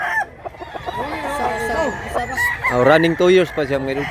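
A rooster offered for sale clucks and crows loudly and close in a series of calls, with someone speaking briefly among them.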